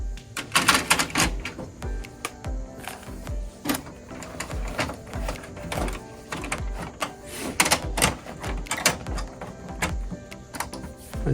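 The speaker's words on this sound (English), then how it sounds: "We're going to open up the paper tray right here." Paper tray of an HP LaserJet Pro 4001n laser printer being opened and handled, a series of close plastic clicks, thunks and rattles spread irregularly across the clip.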